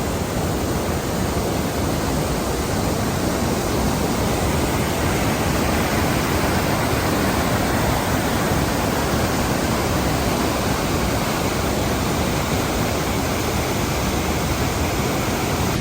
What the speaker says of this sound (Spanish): Es impresionante la fuerza del agua.